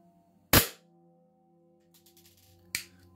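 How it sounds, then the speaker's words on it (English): A Glock gas blowback airsoft pistol fires two sharp, loud shots about two seconds apart, each a crisp crack with a short tail, over a low steady hum. "now I'm using my Glock gas blowback"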